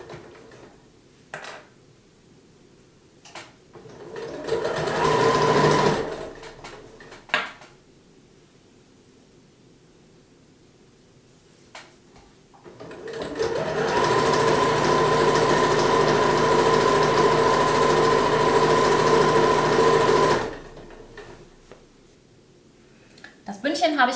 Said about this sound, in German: Jetzt nähe ich den Bündchenstreifen einmal rundherum an